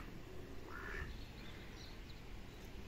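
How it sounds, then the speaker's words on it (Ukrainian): Ducks quack faintly in the distance outdoors, a short burst of calls standing out against a soft, steady ambient hiss. "ну хоч качечок вам покажу"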